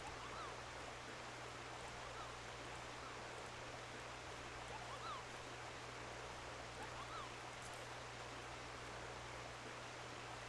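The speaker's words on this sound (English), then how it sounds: "waterfall is crazy loud." Steady, loud rushing of a waterfall as ambient sound in a video game, a dense unbroken wash of water noise with no voices over it.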